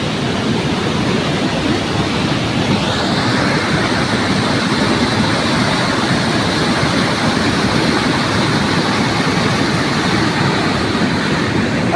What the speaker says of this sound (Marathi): पूर्ण केटी दुसरी बरोबर वाहते, एकदम गढूळ पाणी